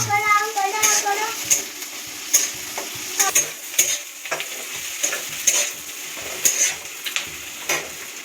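Onions sizzle in a hot frying pan while a utensil stirs and scrapes them in repeated sharp strokes, steady hiss underneath; a voice speaks briefly at the start.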